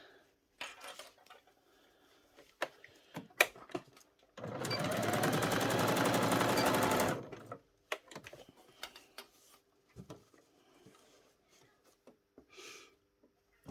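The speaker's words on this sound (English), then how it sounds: "So I'll just sew those and show you how the yoke works." A sewing machine stitches the shoulder seam of a doll's school shirt in one continuous whirring run of about three seconds, framed by quiet clicks, fabric handling and small taps before and after.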